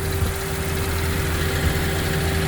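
A 2020 Ford EcoSport with a 2-liter four-cylinder GDI Duratec engine idles steadily at close range, a continuous low rumble with a faint vibration and a constant hum, no voices over it.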